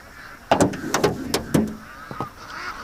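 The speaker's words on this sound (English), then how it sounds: "This is not a happy quack." Upset ducks on a lake let out a burst of loud, harsh quacks, about half a dozen sharp calls in quick succession, near and clear, before tapering off.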